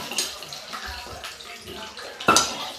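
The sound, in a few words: hot oil sputtering in a bowl with water in it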